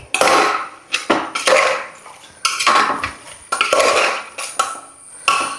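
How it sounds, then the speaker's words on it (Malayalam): Beef curry being stirred in a pot, with repeated scraping, clinking strokes of a utensil against the metal, arriving in uneven bursts roughly every second, loud and close with no talking. "ജസ്റ്റ് ഒന്ന് ഇളക്കുക."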